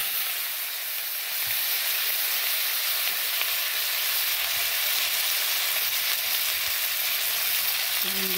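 Cumin seeds crackle and sizzle in hot oil, a steady bright hiss that stays close and fairly loud throughout, with no talking.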